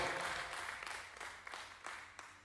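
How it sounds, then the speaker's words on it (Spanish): A church congregation breaks into steady applause, a sustained wash of many hands clapping that gradually fades, heard at moderate distance with no speech over it. "Un aplauso para el Señor"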